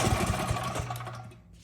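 A Predator 212 generator engine with a gummed-up carburetor after sitting unused for a couple of years, being started. It runs rough and sputtering with a buzzing mechanical drone up close, then fades toward the end.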